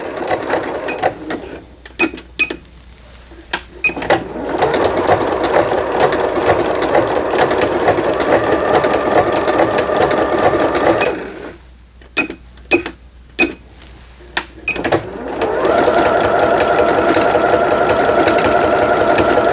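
A Singer 7640 sewing machine runs a triple zigzag stitch in long steady bursts, broken by short pauses with clicks of the mechanism, close and loud, with no talk.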